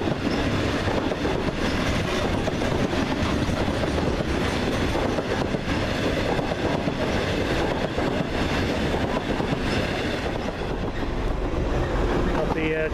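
TransPennine Express unit 185112 passes through Swinton bound for Cleethorpes, a loud, continuous rumble and rhythmic wheel clatter that fills the whole stretch.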